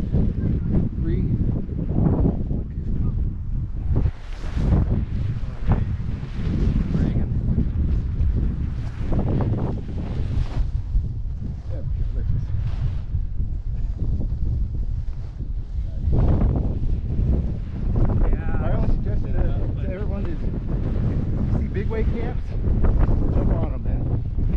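Strong, steady wind roars and buffets the microphone throughout a skydiving canopy landing in high wind, with gusty surges and a voice talking over it.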